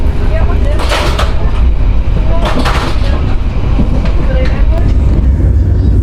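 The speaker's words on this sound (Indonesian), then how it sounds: "Kereta api Kamandaka memasuki pemberhentian berikutnya stasiun Kasugihan" KA Kamandaka passenger train running along rails, a loud steady rumble with rhythmic clicks as the wheels cross rail joints, heard from inside the carriage.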